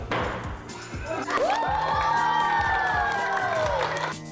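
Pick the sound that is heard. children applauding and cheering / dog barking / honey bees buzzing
children applauding and cheering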